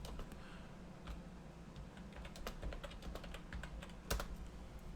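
A computer keyboard is typed on in quick, uneven bursts of crisp clicking keystrokes, heard close and alone with no talking, and one louder key strike near the end.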